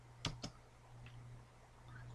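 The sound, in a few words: typing a command on a computer keyboard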